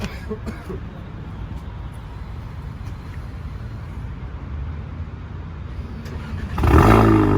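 A steady low engine rumble from a Stage 3 tuned SEAT car runs throughout, then swells sharply into a loud rev near the end, close by.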